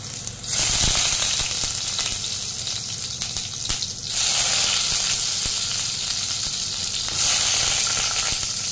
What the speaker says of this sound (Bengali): বেগুনগুলো আমি ছেড়ে দিলাম।